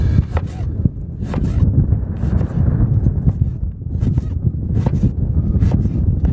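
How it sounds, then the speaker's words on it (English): Wind blows hard at a beach and buffets the microphone, making a loud, continuous low rumble with gusty surges throughout. "The wind is blowing flour everywhere"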